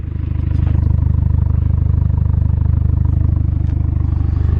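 An MK4 Volkswagen GTI engine idles close by, a loud, steady low rumble with a fast, even pulsing beat and faint clatter, with no talk over it.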